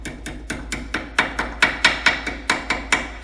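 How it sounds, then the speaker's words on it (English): A dozen sharp metallic hammer taps in a steady rhythm, close by, each strike ringing briefly before the next, as rear brake pad clips are hammered into place on a 2002-2010 Ford Explorer. "So I'll hammer them on until they bottom out, like so."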